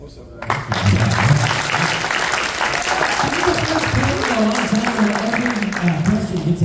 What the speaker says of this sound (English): Every question gets applause